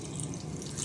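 A hotel room sink tap at Premier Inn Wembley Park runs steadily, a continuous close hiss and splash of water filling the basin with no talk over it.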